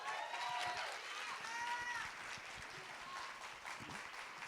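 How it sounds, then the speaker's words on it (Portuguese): An audience at an opening leadership lecture applauds in a steady, dense wash of clapping that runs the whole length, moderately distant, with faint voices under it. "Alice e Raquel, para aplauso de vocês."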